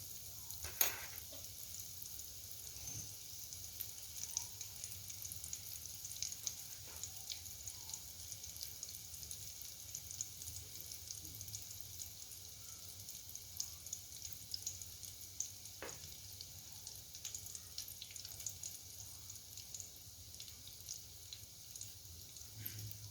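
Potato and tuna briouats frying in hot oil give a faint, steady sizzle with small crackles and pops, heard up close throughout with no talking.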